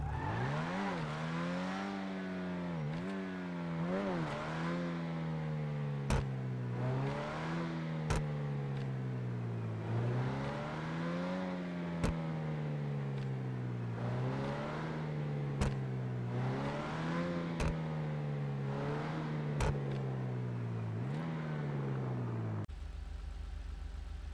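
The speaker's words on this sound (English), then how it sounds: "Sports Car Number One Grotti Itali RSX." Grotti Itali RSX sports car in GTA V revs repeatedly, its engine rising and falling in steady surges with sharp shift clicks, loud and close, alone with no talk, ending abruptly.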